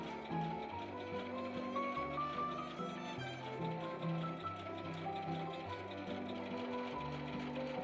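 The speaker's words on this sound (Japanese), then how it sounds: "その線のちょっと外側を縫うと綺麗にできますよ。" A sewing machine runs steadily while stitching a drawstring shoulder bag, a continuous close mechanical whir with a rapid needle rhythm and no break for the whole stretch, with no voices.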